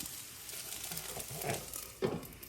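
Sarvapindi, a Telangana rice flatbread, cooks on a pan with a soft, steady sizzle and a couple of faint scraping touches near the end.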